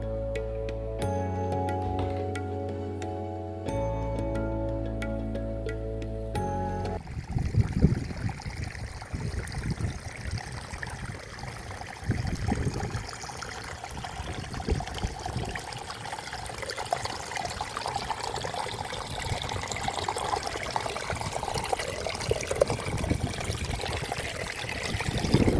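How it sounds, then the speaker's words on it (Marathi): Water flows and gurgles steadily at a Hindu temple, a soft, continuous trickling heard close by. It follows a brief stretch of music at the start and continues alone without talk. "पाण्याचा खुळखुळपणा माझ्या मनास मोहून"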